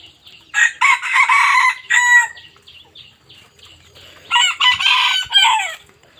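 A young white-eared rooster crows loudly and clucks up close in two bursts, with a quieter stretch between them and a hint of wing flapping.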